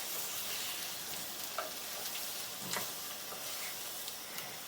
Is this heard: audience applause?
no